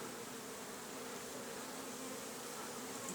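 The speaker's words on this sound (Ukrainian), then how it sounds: "Ось гніздо шершнів, воно достатньо розвинуте." Hornets buzz in a dense, continuous drone at a nest, steady and close, with no other sounds.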